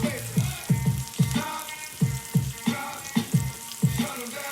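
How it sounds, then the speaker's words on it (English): A Hennessy glaze for chicken sizzling in a pan as the alcohol cooks off, heard close up as repeated pulsing bursts of frying crackle. "All we doing is cooking the alcohol off that Hennessy."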